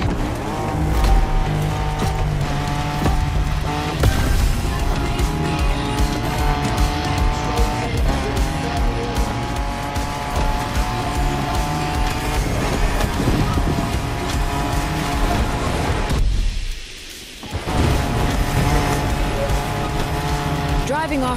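Car racing off-road in The Crew Motorfest video game, with a loud continuous engine roar and shifting revs, tire noise on rough ground, and a brief dip near the end, while someone narrates over it.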